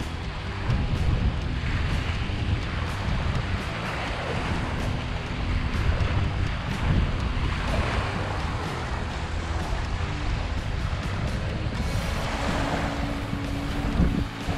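Strong wind roars and buffets the microphone on a warm beach, a steady loud rush with low rumble and possible surf underneath throughout.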